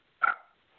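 A single short dog bark sounds faintly at a distance, a brief yip in an otherwise quiet room.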